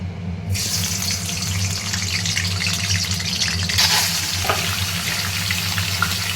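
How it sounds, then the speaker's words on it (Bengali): Doi chicken pieces fry in a kadai with a spoonful of ghee and white oil, giving a steady, loud, close sizzle that holds throughout, with a brief brighter hiss and faint stirring clinks midway. "এবার চিকেনটাকে একটু ভাজা ভাজা করব"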